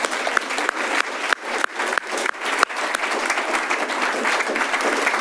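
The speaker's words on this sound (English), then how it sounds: "let's give everybody a big round of applause first" Applause breaks out at a city council meeting, starting in bursts of clapping that quickly settle into a steady, moderately loud round from the room.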